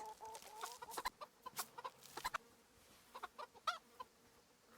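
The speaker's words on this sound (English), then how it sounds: "Feed the chickens." Chickens in the video game Kingdom Come: Deliverance, a flock giving soft, scattered clucks and short squawks in quick irregular bursts, fairly close and quiet with no talk over them.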